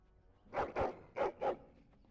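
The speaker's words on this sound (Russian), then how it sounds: "Пес." A dog in Dragon Age Origins barks four times in two quick pairs, close and moderately loud, with a quiet background and no talking.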